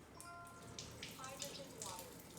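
Water running from a hydrogen water faucet with a vented fitting (Synergy ECHO H2), a quiet steady hiss of flow with faint drip-like splashes and a little background noise.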